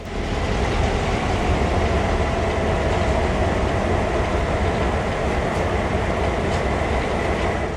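Train rumble in Train Sim World: NEC New York, a steady loud rolling roar with faint clatter running throughout, no voices.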